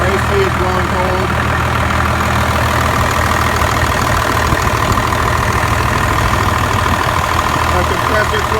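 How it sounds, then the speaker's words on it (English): A car engine idles steadily with the AC compressor clutch engaged and the air conditioning running, a continuous low mechanical hum and drone with some speech-like murmur in the background throughout. "Our compressor clutch is engaged. You can see it spinning."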